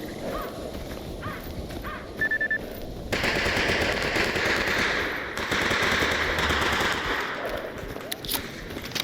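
Gunshots in the video game Stalker Anthology come as rapid, loud bursts that continue over several seconds in a noisy outdoor scene.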